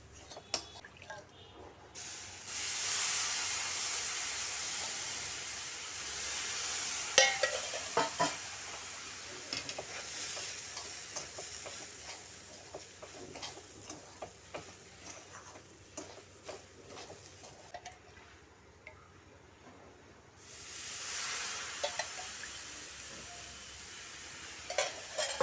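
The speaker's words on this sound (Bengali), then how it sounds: "এরকমভাবে একটু একটু দেবে আর নাড়া দেবে" Sweet pilau cooking in a pot as milk is added bit by bit and stirred, giving repeated close scrapes and clinks over a hissing simmer, with a voice speaking at times.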